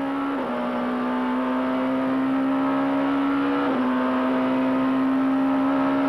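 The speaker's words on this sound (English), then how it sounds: "Flat out gear changes." Race car engine held at high, steady revs through flat-out gear changes, with two brief dips in pitch marking the shifts, loud and close from inside the car with no talk.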